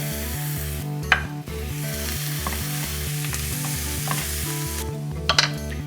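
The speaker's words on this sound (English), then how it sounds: "we keep that on a low heat just to simmer and get the ginger and the garlic and all those good bases just mingling into each other" Onions with ginger, garlic and salt sizzling in a pan on low heat, a soft steady frying hiss with a couple of sharp clinks, set under a prominent repeating background music track.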